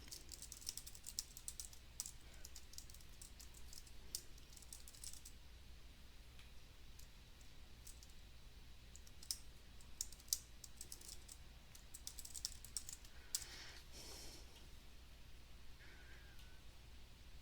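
Someone types a new password on a computer keyboard in quick, light clicks arriving in short bursts with pauses, quiet and close, over a low steady room hum.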